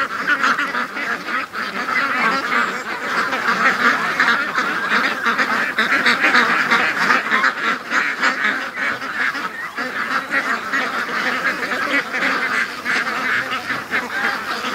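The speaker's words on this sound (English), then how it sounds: "That's a mess of ducks going to the lake." A large flock of white ducks heading through a swamp toward a lake keeps up a loud, continuous chorus of overlapping quacks and honks, close by and unbroken for the full stretch.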